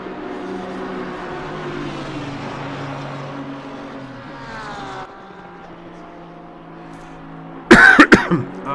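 One sharp, loud cough bursts out near the end, close to the microphone, after several seconds of steady engine drone from a sim-racing endurance session at Suzuka played on PC.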